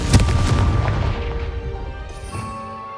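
A Confringo curse in Hogwarts Legacy smashes into pumpkins with a heavy, booming blast that rumbles and slowly fades, a faint tone lingering afterward.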